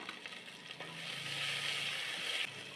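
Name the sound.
onions, mint and coriander frying in a pan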